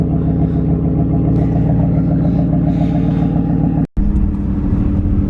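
A van engine idles steadily right after a rebuilt 4L80 went back in, giving a close, even, low harmonic rumble that holds throughout and drops out for a split second near the end.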